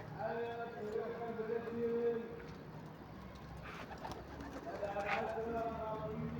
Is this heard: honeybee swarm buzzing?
no